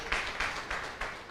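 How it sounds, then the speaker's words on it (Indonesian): A seated audience at a NASA business presentation claps, with bursts of applause swelling in a steady rhythm about every third of a second over a short stretch. "enggak tepuk tangan buat NASA?"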